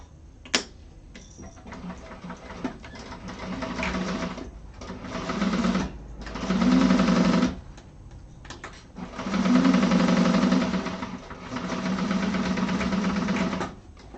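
A sewing machine stitches the seams of a handbag lining in several sustained runs of rapid mechanical whirring and ticking, close by, with short stops between bursts.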